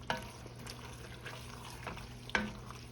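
Chili with diced Rotel tomatoes sizzles and fries in a pan, with a steady crackling hiss and a couple of sharp scraping taps from stirring, one at the start and another near the end.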